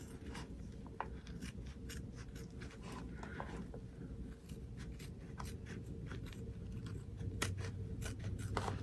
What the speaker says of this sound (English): I'm going to cut between those two without cutting my zipper.